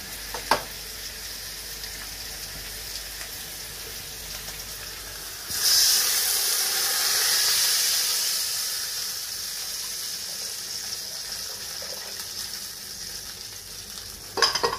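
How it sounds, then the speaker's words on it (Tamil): Water pours into a hot pan while making vegetable upma and erupts in a loud, steady sizzle and hiss that slowly fades, with a few faint clanks at the start and end. "நம்ம தண்ணி எடுத்து இதில் ஊற்றிக்கலாம்"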